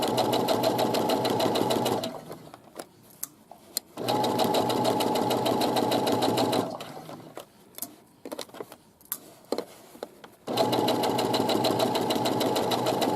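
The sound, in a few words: sewing machine stitching a side pocket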